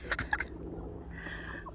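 A baby turkey chirps a few sharp notes near the start, then gives one longer, thin peep after a short quiet gap, close and fairly soft.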